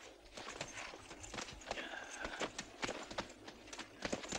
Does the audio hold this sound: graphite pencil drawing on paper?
no